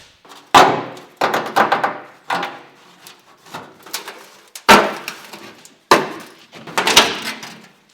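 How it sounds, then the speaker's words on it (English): Rusty steel boot lid skin on an Alfa Romeo GTV being levered off its frame after the stitch welds are cut: a series of loud, sharp metallic cracks and scraping clanks in uneven bursts, close up, with no speech. "With the folded edge loosened up and all the stitch welds cut out, it just takes a little leverage and..."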